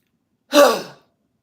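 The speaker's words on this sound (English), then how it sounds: "Inhale." One deep, audible inhale through the mouth during a breathing exercise, a single close, airy breath lasting about half a second, with silence on either side.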